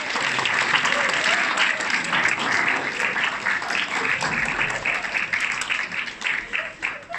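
Steady applause from an audience, sustained throughout at an even level, with voices mixed in.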